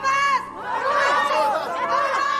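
A crowd bays for Barabbas's release before Pilate: many agitated voices shout and clamor together in a loud, surging din that rises and falls continuously.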